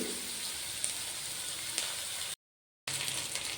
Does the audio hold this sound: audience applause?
no